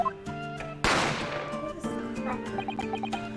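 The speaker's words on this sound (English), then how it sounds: "A gunshot rang out" A single sharp gunshot cracks out amid game-like music and tones in The Great Ace Attorney Chronicles, its burst decaying quickly into the continuing musical background.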